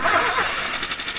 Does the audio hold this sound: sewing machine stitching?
no